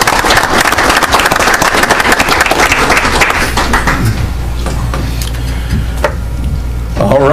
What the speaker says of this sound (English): I applaud.